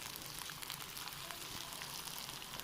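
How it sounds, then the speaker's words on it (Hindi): Chicken frying in a karahi, a soft continuous sizzle with fine crackling, fairly quiet and even from start to finish with no voices. "और अब हमने चिकन को यहाँ पर फ्राई करना है"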